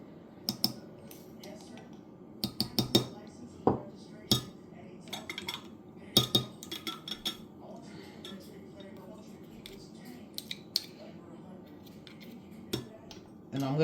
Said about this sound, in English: I'm going to stir this up